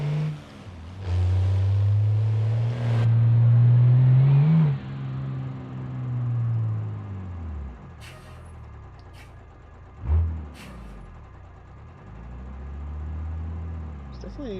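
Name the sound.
car engine running in video game BeamNG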